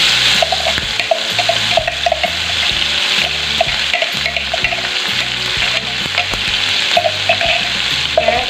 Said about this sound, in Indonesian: Dan sekarang ini minyaknya udah panas, langsung aja aku mau tumis bumbunya.